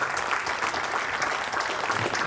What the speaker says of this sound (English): I think we need to give those folks a really good round of applause